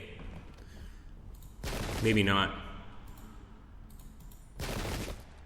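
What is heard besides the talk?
musket volley fire in video game American Revolutionary War 3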